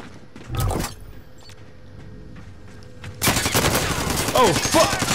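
Gunfire in the video game Warzone, a loud sustained burst of rapid automatic shots breaking out after a quieter stretch with a single thud, over a steady background hum.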